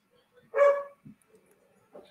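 A dog gives a single short bark or yip at moderate distance in a quiet indoor room, followed by a few faint, soft sounds.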